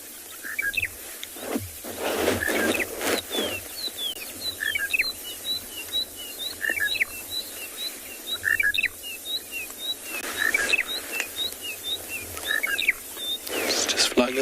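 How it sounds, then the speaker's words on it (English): A monotonous lark calling repeatedly in South African bush, short high chirps in a steady series over soft background noise, with quiet talk at times. "get us onto this monotonous lark here"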